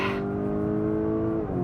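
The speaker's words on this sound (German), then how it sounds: "Und dann trittst du hier aufs Gas." A Lamborghini Urus Performante SUV with 440 mm ceramic brakes accelerates under throttle, its engine droning loud and close with a steady harmonic roar that dips slightly near the end.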